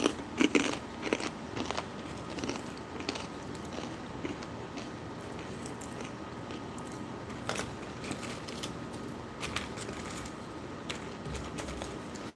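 Crunchy Baked in Brooklyn pita chips are chewed up close, with irregular crisp crackles and crunches repeating steadily over several seconds and no talking.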